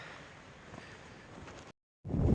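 Strong wind buffets the microphone on a mountain trail in the Smokies, a continuous broad roaring gust that drops out briefly near the end before a louder, low-heavy blast returns.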